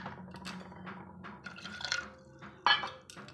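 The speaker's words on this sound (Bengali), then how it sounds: "এক বাটি জল দিয়ে দিচ্ছি" Water is poured into a bowl in a kitchen to make sugar syrup for khasta. The liquid splashes and trickles close by, with a brief clink of the vessel near the end, and no speech.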